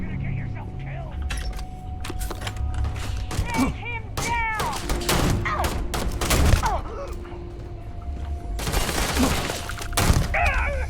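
Bursts of rapid gunfire and explosive blasts rattle through a Starfield firefight, with sharp cracks clustered in volleys and a heavy barrage near the end. Someone talks over the shooting.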